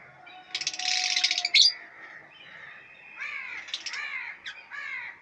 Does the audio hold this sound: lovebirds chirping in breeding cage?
yes